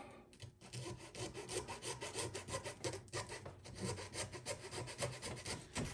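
A small hobby saw cuts off a broken shank, giving a steady, close rasping stroke that repeats in quick rhythm for the whole stretch with no talk.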